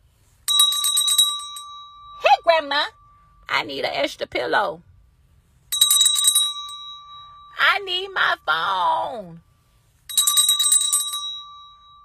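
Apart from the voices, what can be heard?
hand bell ringing repeatedly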